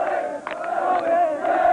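A dense crowd of Bristol Rovers football fans in Kingswood, Bristol, 1989, cheers continuously, a steady roar of many voices with occasional louder shouts rising above it, sustained throughout.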